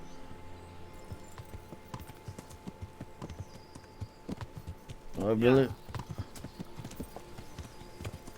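Horse hooves clip-clop steadily in Kingdom Come: Deliverance, a medieval role-playing game, with a short whinny midway, while a person speaks briefly over the rhythmic steps.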